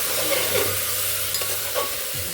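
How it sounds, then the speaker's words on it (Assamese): Banana stem and tomatoes sizzle in a pan as they are stir-fried, a continuous close hiss broken by a few light scrapes of the spoon, with no voices. "মই ঢাকনিখন এতিয়া আঁতৰাই দিম আৰু এবাৰ লৰাই দিম"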